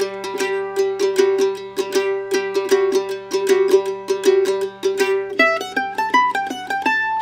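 A mandolin plays a phrase of the fiddle tune Blackberry Blossom, opening with a two eighth-note pickup into the downbeat. Bright, close plucked notes ring in a steady, lively rhythm with no voice over them.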